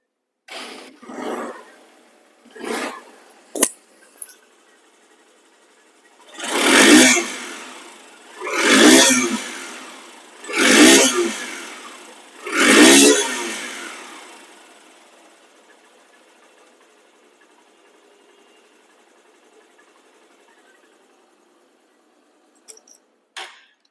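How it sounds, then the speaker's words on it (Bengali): A used Honda SP Shine CBS motorcycle engine, started with a few short sputters, then revved four times in distinct rising surges before settling to a quiet idle, with a couple of faint clicks at the end. "এখন গাড়িটির সাউন্ড কোয়ালিটি শুনুন"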